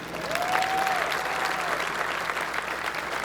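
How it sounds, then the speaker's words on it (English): Sustained applause from a crowd at the Chase Center ribbon cutting ceremony, a dense, even wash of clapping that holds steady throughout with a faint tone briefly over it. "I'd like to take now one more round of applause for our speakers."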